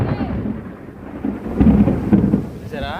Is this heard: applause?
no